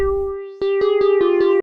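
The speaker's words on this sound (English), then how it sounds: "So first I stereo enhanced it like this." A synth lead run through a stereo enhancer holds one bright, buzzy sustained note, then pulses in a quick steady rhythm of repeated chopped hits, loud and close with no other sounds.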